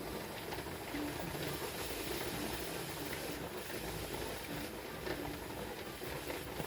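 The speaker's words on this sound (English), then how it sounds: "There you go. Steam." Steam hisses from a pressure canner while beans are being canned, a steady broad rushing hiss that holds at a constant level throughout, with no clear speech over it.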